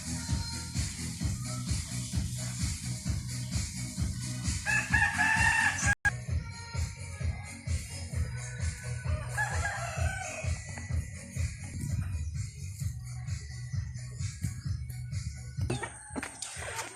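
Chickens and roosters kept on a rural Philippine farm, with repeated crowing and clucking, several birds calling close by in overlapping bursts over steady background farmyard noise.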